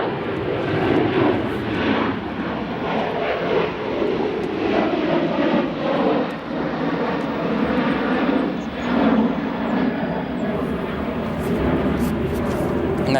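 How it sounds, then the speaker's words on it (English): A Republic Airways Embraer 175 long-range jet, arriving at O'Hare from Greenville-Spartanburg, roars with a steady, broad engine rumble that holds loud throughout, with a voice talking over it. "and Embraer 175 long range from Greenville, Spartanburg"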